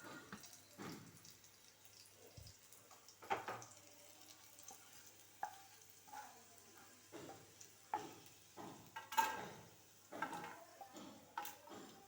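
Ingredients for spinach chutney roasting in a pan: faint, soft sizzling with intermittent scraping and stirring clicks at irregular intervals.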